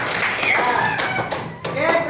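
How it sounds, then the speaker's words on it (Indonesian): A short burst of hand clapping from a group, with children's voices chattering over it throughout. "Oke, dah tepuk tangan."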